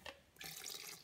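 About 100 grams of water is poured into a rye and wheat sourdough starter being fed, a brief soft splashing stream heard close and faint on its own.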